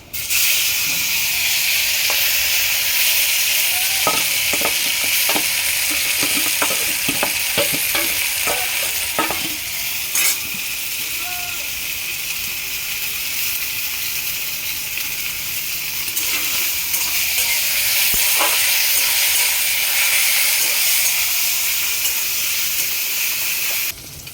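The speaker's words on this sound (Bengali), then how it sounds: "গ্রেট করা আমটা তেলের মধ্যে দিয়ে দেবো" Grated mango fries in oil over browned tempering spices, a loud steady hiss and crackle with a run of sharp clicking stirs early on, then a long even sizzle.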